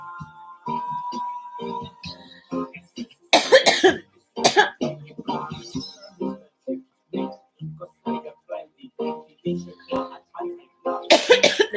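Several sharp coughs break out amid ongoing conversation, with a faint clink of glass now and then; loud bursts stand out near the start and end.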